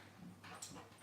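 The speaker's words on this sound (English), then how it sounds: "The dogs are back too, apparently." Dogs whimpering softly in a home during a card-making session, a couple of faint whines and yips at moderate distance over low room noise.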